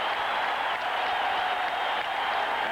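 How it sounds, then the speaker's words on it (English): A baseball stadium crowd roars continuously after a home run in an extra-inning playoff game, a dense, steady wall of cheering and applause with no break and no voices standing out. "And the crowd is standing and still roaring."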